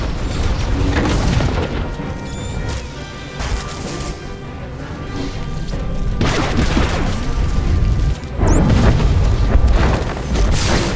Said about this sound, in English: the knight detonates the research terminal